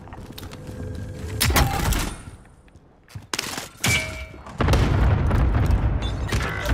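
Cluster strike explosions in Call of Duty Warzone hit as a series of heavy booms and thuds. The blasts come in loud bursts with brief quieter gaps between them, and the rumble builds toward the end.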